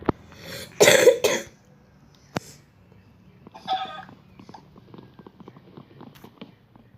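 A short burst of clucking from a video-game chicken, then scattered clicks and a brief squawk, with no talking.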